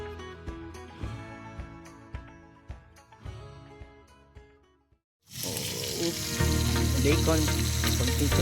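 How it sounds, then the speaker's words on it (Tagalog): Bacon sizzles in a pan at a beachfront campsite, a steady, dense crackle of frying that swells after a brief lull and sits close by, with scattered clinks and knocks of cooking gear before it. "Bacon, konting tunog."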